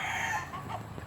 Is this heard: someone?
no